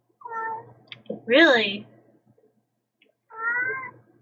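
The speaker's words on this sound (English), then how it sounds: "Cat child" A cat meows three times, close and clear, with the middle call loudest and rising. A person speaks briefly between the meows.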